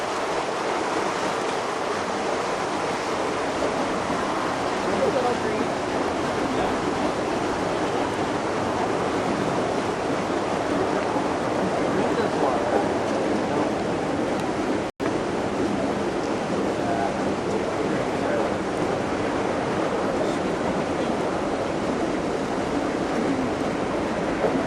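Dechlorinated treated water from a sewage treatment plant pours into the Persigo Wash as a steady broadband rush, loud and unbroken for the whole stretch apart from one momentary dropout midway.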